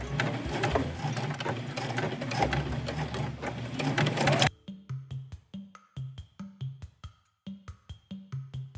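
A sewing machine runs hard and continuously along a grocery tote bag seam, then breaks into a string of short, sharp mechanical clicks and brief stitch bursts while back tacking the ends.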